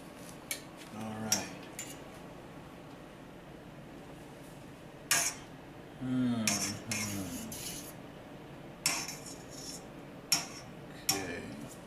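A metal fork clinks against dishes while a turkey sandwich is being cooked, giving a handful of sharp, scattered taps and scrapes with pauses between them, close and fairly quiet against faint kitchen background.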